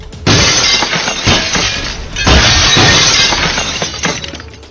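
A station's glass window shatters loudly in two crashing bursts, with shards rattling and tinkling as the breakage continues, close and intense.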